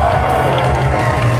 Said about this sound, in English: Wales deserve a massive cheer there.